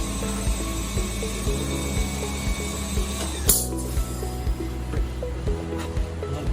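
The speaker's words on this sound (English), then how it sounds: "put the weld no weld switch weld side and then weld" Electroweld filter mesh seam welder working a job between its wheel and bottom conductor, giving a steady mechanical hum with regular clicking, ratchet-like ticks and one sharp burst partway through.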